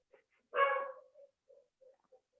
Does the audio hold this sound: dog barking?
yes